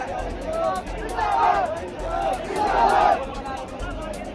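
A protest crowd chants at Jantar Mantar in rhythmic waves of massed voices that swell and fall, loud and slightly distant, over constant background hubbub.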